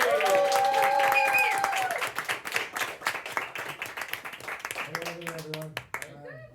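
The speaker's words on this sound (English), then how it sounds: "I want a big round of applause starting at the back" A comedy club audience in County Kerry applauds a comedian, steady clapping filling the room and fading after a few seconds as a voice begins speaking over the tail.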